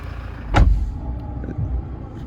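Electric side mirrors on a 2019 Toyota Prado GXL fold inward with a short mechanical whir and click, one brief motor burst followed by a softer second movement, close by and quiet, with no talking.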